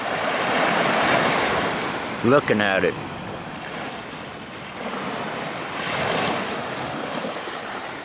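Caribbean Sea surf washes and rumbles steadily with heavy wind buffeting the microphone, and someone speaks briefly midway.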